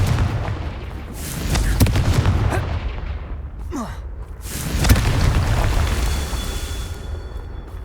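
Confringo fire-spell blasts in Hogwarts Legacy erupt as two heavy booming explosions a few seconds apart, each with a rumbling tail, amid game sounds and in-game voices.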